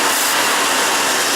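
A 1986 Ford F-150 engine idles steadily after a misfire caused by swapped coil wires on cylinders 2 and 4 was fixed, giving a loud, even, continuous rumble with no talk over it.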